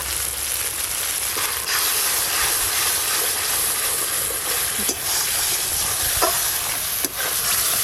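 Szechuan sauce bubbles and hisses in a pan as its excess water cooks off, a steady close sizzle and steam hiss broken by occasional scrapes and taps of a spoon stirring.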